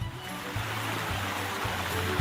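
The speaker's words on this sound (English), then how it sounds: "You're listening to the water, to the river." A river flows through the Glencoe valley in Scotland, a steady, full rush of water that carries on without break from start to finish.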